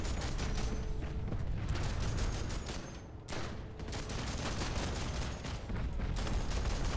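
Enemy soldiers in a video game fire on the player in rapid bursts of gunfire that crackle on and off, with a short lull partway through.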